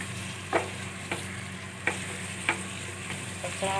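Onions sautéing in a pan for a mutton curry, a steady low sizzle with several sharp spoon scrapes and knocks against the pan at irregular intervals, close and alone with no voices.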